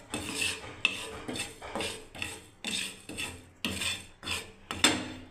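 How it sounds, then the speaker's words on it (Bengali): Spices being ground by hand on a shil-nora grinding stone: steady rhythmic scraping and rasping strokes, about ten in a row, close and fairly loud with no talking. "এবার আমি শিলনোড়ায় পিষে নেবো"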